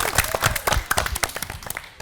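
Studio audience clapping on an Indonesian TV quiz show, a scattered burst of handclaps over about two seconds with a faint voice in the mix.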